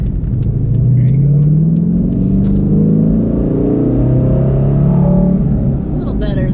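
A Dodge Challenger with a manual gearbox revs loudly while driving, its deep engine rumble rising in pitch as it accelerates, heard close from inside the cabin with people talking over it.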